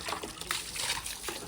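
Water splashes and trickles steadily as a face is washed, with brief louder splashes over a continuous close dribble, without speech.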